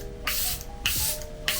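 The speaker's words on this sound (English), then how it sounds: "I'm gonna be doing my setting spray with the Charlotte Tilbury one" Charlotte Tilbury setting spray is misted in three short, sharp hissing bursts, each a quick pump close to the microphone with brief quiet gaps between.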